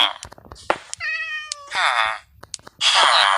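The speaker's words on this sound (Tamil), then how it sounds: "ஓகே பூனைலாம் கத்துது" Cats in the Minecraft video game meow repeatedly up close, a string of clear, drawn-out meows separated by short clicks and gaps, with a louder, longer meow at the end.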